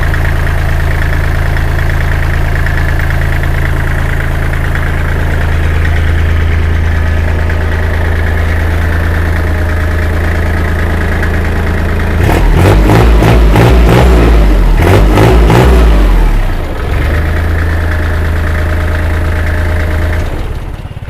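A 2008 Kubota L3408DT tractor engine idles steadily and close by, with a short stretch of faster, rougher revving before it settles back to idle.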